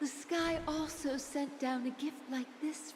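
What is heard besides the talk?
No distinct noise like a dog, phone or traffic.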